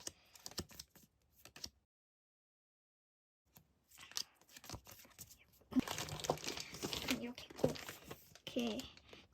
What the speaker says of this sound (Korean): 그리고 포카 뜯어볼게요